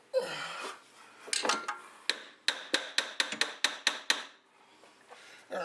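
Sharp metallic taps from a screwdriver driving a rear dog bone suspension bushing into place on a C4 Corvette, about a dozen close, evenly spaced strikes, faster toward the end, after a few scattered knocks.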